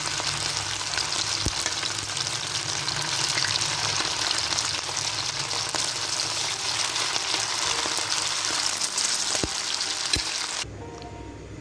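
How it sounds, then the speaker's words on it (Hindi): Marinated chicken fries in hot oil in a pan, a loud, steady sizzle and crackle running unbroken for several seconds before dropping off sharply near the end. "इसमें हम अपना चिकन जो मैरिनेट करके रखा था 20 मिनट से, उससे फ्राई करेंगे इस तरीके से"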